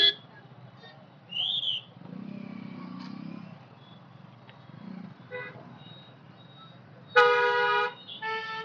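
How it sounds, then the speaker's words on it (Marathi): Evening traffic in the town of Mangaon rumbles at a low hum. A distant horn toots, and later a loud, close horn blares for about a second, followed by a shorter second blast. "माणगाव मध्ये आलोय आपण ट्रॅफिक मध्ये."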